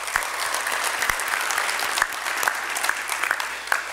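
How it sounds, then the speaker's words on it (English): Applause from an awards-ceremony audience for an athlete, with steady dense clapping throughout and a few sharper individual claps standing out. "let's get a big round of applause for Garrett McDowell"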